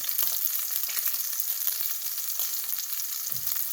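Roughly chopped garlic cloves frying in butter, a dense close crackling sizzle with small pops throughout, no voices.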